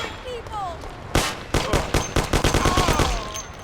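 Gunshots from the video game Mafia ring out: one heavy shot, then a fast string of repeated shots, with a voice heard before the firing.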